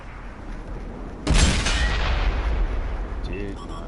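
Tank cannon firing in World of Tanks, a single heavy boom that erupts suddenly and rolls off into a lingering rumble, with a brief game voice cue near the end.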